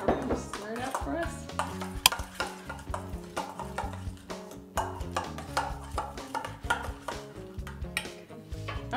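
A mustard and maple syrup mixture for a waffle spread being stirred in a bowl, with a steady run of soft clicking and scraping strokes throughout, close and moderately quiet.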